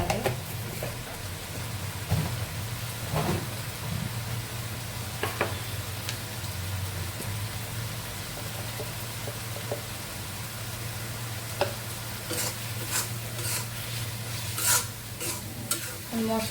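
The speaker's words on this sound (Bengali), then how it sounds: "মশলাটার সঙ্গে কষিয়ে নেব ভালো করে বেগুন" Eggplant being stir-fried with ginger-garlic paste, green chili, turmeric and chili powder in a pan: a soft continuous sizzle with frequent spatula scrapes and clinks, a low steady hum underneath, close and without talk.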